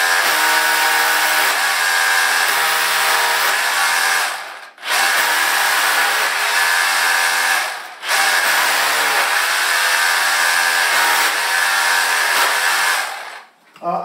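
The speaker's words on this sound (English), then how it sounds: "you want to go plenty deep for these and really clear it out, otherwise the tapcon screws are a little hard to drive in there." A power drill bores deep holes for Tapcon screws on a homestead greenhouse trellis wall, running loud and close in three long sustained whines with brief pauses between.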